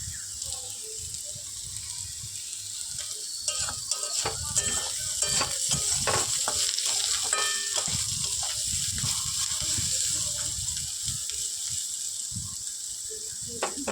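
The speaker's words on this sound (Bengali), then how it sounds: "তো দেখো আলুটা আমার প্রায় ভাজা ভাজা হয়ে গিয়েছে" Potatoes frying in a pan, a steady bright sizzle that runs throughout, broken by scattered scrapes and knocks as a spatula stirs and presses them.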